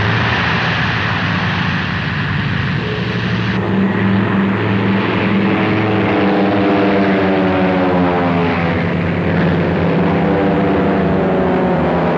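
Propeller-driven fighter planes of a pursuit squadron roar loudly overhead, a sustained heavy engine drone that shifts in pitch as the aircraft pass, set in a 1941 wartime scene over Los Angeles.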